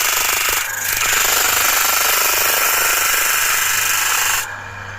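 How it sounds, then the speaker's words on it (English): Disc sander, or linisher, gently sanding wood for an anti-vibration loudspeaker platform, a loud continuous abrasive grinding roar with a steady motor hum, dipping briefly near the start and easing off at the end. "So here's the linisher, the disc sander I should say"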